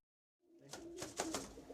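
Young racing pigeons coo softly in a loft, a few low, rounded calls rising from silence and overlapping close by for a moment.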